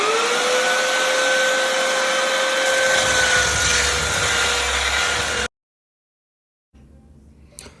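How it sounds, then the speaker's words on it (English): A shop vacuum running steadily while sucking sawdust off a belt sander's belt, a loud continuous whine with a shifting pitch, then it cuts off abruptly to near silence. "I vacuumed sawdust off of the belt of this sander several times"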